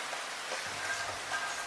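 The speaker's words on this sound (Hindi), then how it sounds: "सिमरन घर के बाहर हाथ रखकर देखा, बारिश अभी भी रोका नहीं, पर पहले से थोड़ा कम हुआ है।" Steady rain falls outside a house, an even hiss of drops on surfaces with no voices, moderate and continuous throughout.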